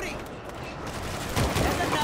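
Gunfire in the zombie shooter World War Z, a dense stream of shots beneath continuous noisy game action, with firing growing louder toward the end and a player voice mixed in.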